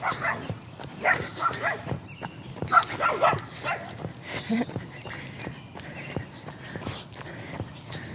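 A puppy barks in short, repeated yips and woofs during an outdoor run, scattered through the moment. A person's voice talks alongside the barking.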